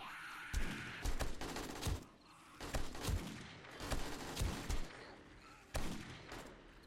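Desert Eagle pistol shots in the survival game 7 Days to Die during a horde night, several sharp heavy booms spaced about a second apart with short gaps and echoing tails.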